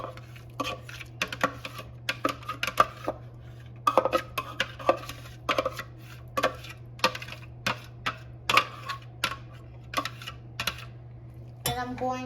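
Chopped kiwis drop into a pot for homemade jam, a series of scattered clinks and soft thuds of fruit and utensil against metal, spaced irregularly over a quiet steady hum.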